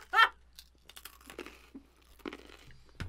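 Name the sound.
crunchy biscuit being bitten and crumbling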